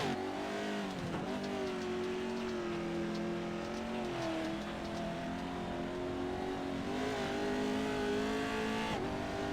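Off-road racing trucks launch over big jumps on a dirt race track, their engines revving loudly and continuously with rising and falling pitch, close and dense throughout with no talk.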